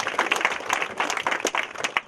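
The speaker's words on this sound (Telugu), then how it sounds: "గట్టిగా చప్పట్లు కొట్టండి." A short burst of audience applause at a wedding ceremony, dense overlapping claps close by and fairly loud, lasting about two seconds.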